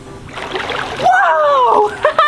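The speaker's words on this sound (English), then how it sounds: "That had to be a way bigger splash than Gus!" A big splash into a backyard swimming pool during a water balloon game bursts out, followed by water churning, while excited children shout and talk loudly over it.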